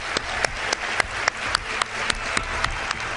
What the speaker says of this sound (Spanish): este aplauso es para vosotros